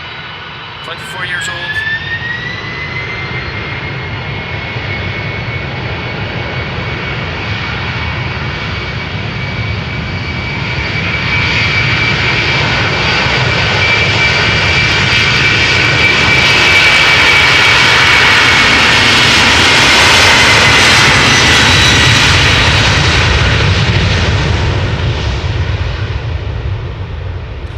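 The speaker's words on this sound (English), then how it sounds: "Flight 6161 going to Miami, Florida, Boeing 747-400." An Atlas Air Boeing 747-400, 24 years old, roars down the runway on takeoff for Miami at Amsterdam Schiphol, its jet thunder swelling steadily and peaking loud late on, while someone talks over it early.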